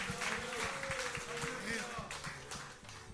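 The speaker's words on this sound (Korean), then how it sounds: "우리 하나님 앞에 박수로 그분의 오심을 즐거워합시다" A church congregation claps during a Sunday Christmas worship service, rhythmic clapping in time with music beneath a sustained tone and a busy mix of room sound.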